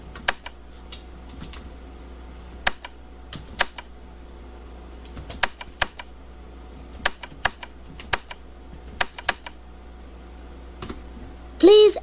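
Keys tapped on a computer keyboard in a Windows 98 classroom adventure game for third graders: sparse single clicks spread across the stretch, crisp and close, ending in a brief louder electronic chirp.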